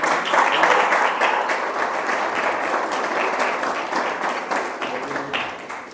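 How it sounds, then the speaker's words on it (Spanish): Applause from a church congregation, a dense sustained burst of many people clapping in a hall that starts strong and slowly tapers, with a few voices faintly mixed in. "denle un aplauso al Señor"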